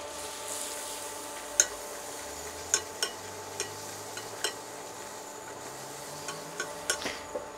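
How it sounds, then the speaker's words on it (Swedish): A soft, steady sizzle of butter and flour in a saucepan on the stove, with a few light taps and scrapes of a utensil stirring now and then. "Mjöl och smör har då fräst klart."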